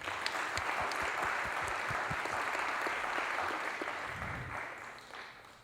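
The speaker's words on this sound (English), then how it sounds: "Let's give her a big round of applause." An audience applauds an 11-year-old dancer after her debut performance, steady dense clapping from a crowd that gradually tapers off toward the end.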